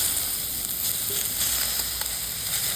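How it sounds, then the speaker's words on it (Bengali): Ingredients for a telakucha (ivy gourd) fruit dish fry in hot oil in a pan, giving a steady, close, even sizzle with light crackling throughout and no voices. "এবার সব কিছু উপকরণ ভালো করে এইভাবে ভেজে নেব"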